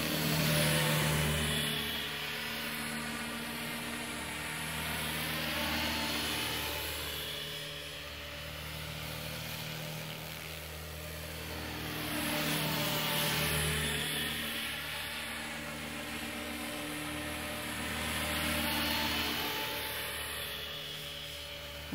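Small aircraft flying and coming in to land, a continuous propeller and engine drone that swells and fades in slow waves as it passes nearby, loud and steady with no voices.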